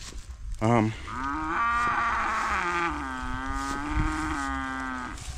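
A cow tied up on a rural Jamaican farm gives a long, loud, drawn-out moo close by, preceded by a short low grunt, with only faint background sounds and no talking.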